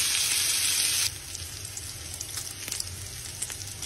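Bacon frying in a pan for carbonara, a loud, close sizzle that eases after the first second into a steadier crackle with scattered pops.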